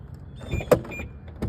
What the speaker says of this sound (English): You see the soft close door feature work on it, and the doors lock